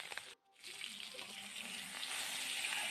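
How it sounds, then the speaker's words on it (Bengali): Snakehead fish frying in hot oil in a wok, a steady bright sizzle that holds through the clip with a brief dropout near the start, close and fairly quiet. "কড়াই গরম হলে তাতে তেল দিয়ে তেলটাও ভালোভাবে গরম হয়ে গেলে মাছগুলোকে সুন্দরভাবে ভেজে নেব"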